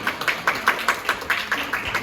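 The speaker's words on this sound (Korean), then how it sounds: "큰 박수 부탁드릴게요" An audience claps at a community social-contribution day event held at Gangdong District Office, a close, steady run of quick, evenly spaced claps from a small group.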